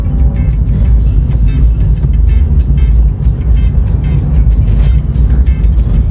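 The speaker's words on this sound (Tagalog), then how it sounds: "that's what you call a tricycle. That's one form of transportation method here in the Philippines" A motorized tricycle goes by on a street in Imus, Philippines, its engine a loud, steady rumble that holds up close for several seconds, with no talk over it.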